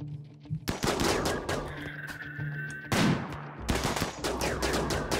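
Gunfire in a Space Haven and RimWorld crossover game, a series of sharp shots coming in quick bursts, loud and close, with brief gaps between volleys and no voices.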